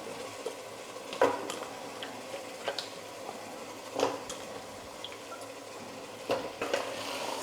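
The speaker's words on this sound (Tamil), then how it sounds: "இப்போ நல்லா கலந்து விட்டுடலாம்." Chickpea and potato kurma is stirred in a pan, with a soft sizzle underneath and a few sharp clinks of a spoon against the pan scattered throughout, close and fairly quiet.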